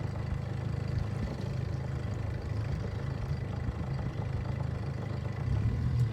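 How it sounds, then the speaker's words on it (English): Fishing boat's big outboard engine running on a lake while bass fishing, a steady low droning hum that holds even throughout, moderately loud and alone with no talk. "Using the big engine, my trolling motor's about dead."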